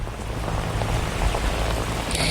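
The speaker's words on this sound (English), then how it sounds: "This is the most rain we've seen since we got out here earlier this morning" Heavy rain pours steadily on Botticelli Way in Lodi, Northern California, a dense, even hiss of drops striking the ground with no pause or voices.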